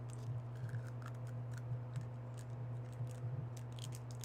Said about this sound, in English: You may be wondering, what is that crinkly plastic noise?